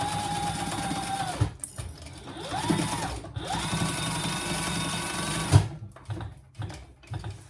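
A sewing machine basting webbing onto a leather waist pack whirs in steady runs, with brief pauses and restarts and a few light clunks. The stitching sounds close and moderately loud, with no talking.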